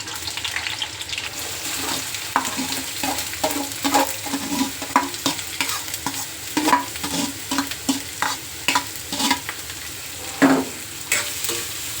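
Green chilies and onion frying with spices in a pan for a chicken curry, a continuous close sizzle broken by frequent quick spatula stirs and scrapes, no voices.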